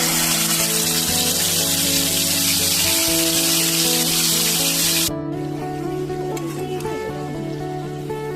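Marinated chicken pieces fry in oil in a pan, giving a continuous loud sizzle and spatter with background music running through; the sizzle drops off sharply partway through while the music carries on.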